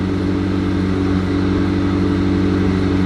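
A McLaren 765LT's engine runs nearby with a steady, loud, deep droning idle that stays even throughout, with no talking over it.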